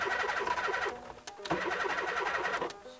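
A 1964 VW Beetle engine cranks repeatedly after a shot of ether into the carburetor, with a steady rhythmic starter churn that pauses briefly twice and never catches, heard up close.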